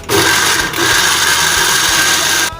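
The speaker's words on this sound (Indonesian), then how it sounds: "Oke, sekarang kita blender." A blender grinds sambal penyet ingredients in a kitchen, running as a steady loud whirring drone for about two and a half seconds before cutting off, with no talk over it.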